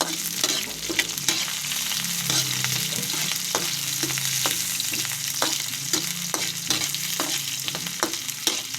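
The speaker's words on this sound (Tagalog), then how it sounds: "ganito ang lutuin nyo sa isang ulo ng tilapia" A tilapia head fries in a pan with steady sizzling throughout, broken by repeated sharp scrapes and clacks of a utensil stirring and turning the fish, close and fairly loud, with no one speaking.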